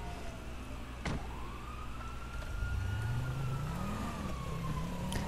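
A police siren from the video game GTA V Online wails in a rising and falling tone, starting faint and growing louder as a car engine note climbs beneath it, with no voices.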